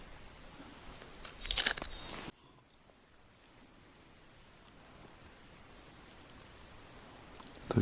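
A titmouse flutters near a forest hut, with a brief burst of soft, rustling wingbeats early on, then only faint, quiet ambience.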